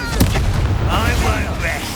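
Confringo spell explosion in the Hogwarts Legacy video game, a loud, booming blast with a rumbling low-end tail, close and dense across the whole two seconds, with game voices mixed in.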